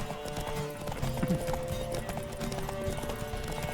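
Repeated clip-clop of horse hooves galloping steadily in a race in The Witcher 3, close and prominent with brief whinny-like sounds and game noise underneath.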